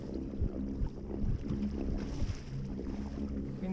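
A Watersnake T24S electric motor propelling a Native Manta Ray 12 Propel kayak on open water: a steady low hum with water splashing and wind noise, continuous and moderately quiet, with no talking.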